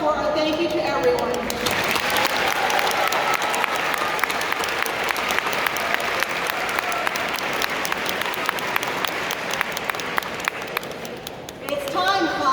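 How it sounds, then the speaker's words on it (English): Crowd applause at a high school graduation ceremony: a loud, dense, steady wall of clapping that lasts about ten seconds before fading, with brief voices at the start and end. "Please join me in a round of applause for our thank you to everyone."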